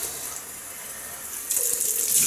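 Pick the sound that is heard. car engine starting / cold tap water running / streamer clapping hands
cold tap water running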